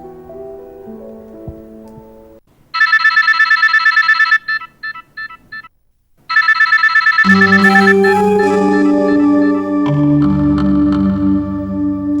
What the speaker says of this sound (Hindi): हीरा, एटलीस्ट फराह को ही फोन करके पूछ लो